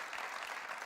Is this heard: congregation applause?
yes